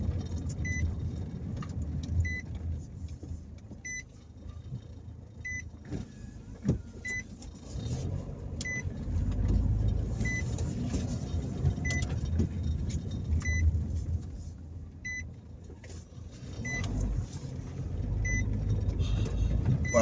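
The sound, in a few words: car driving through town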